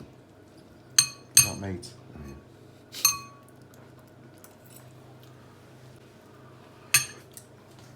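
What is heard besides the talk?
forks on plates while tasting pork ragu pasta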